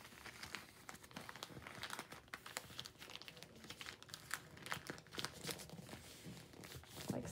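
Newspaper is folded and creased into a seed starting pot close up, giving a steady run of quiet crinkling, rustling and crackling paper with small sharp crunches.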